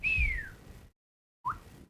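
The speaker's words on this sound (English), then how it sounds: "there is just this sweet, ear-piercing whistle that comes from behind you" A sharp, high whistle rings out as a long falling tone, then after a pause a second brief rising chirp, clear and loud over a low rumble, set in a fantasy tabletop role-playing game scene in the Fey Woods.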